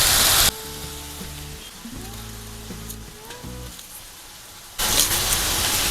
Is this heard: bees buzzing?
no